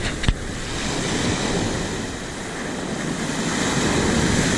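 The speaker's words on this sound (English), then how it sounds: "and large waves." Large ocean surf rolls onto a beach at Sanibel Island, Florida, a steady loud wash of breaking waves mixed with wind buffeting the microphone.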